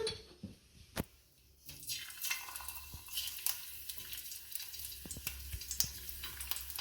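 Ginger and garlic hitting hot oil in a pot, a steady soft sizzle with a sharp clack near the start and occasional stirring scrapes, fairly quiet and close, no voices.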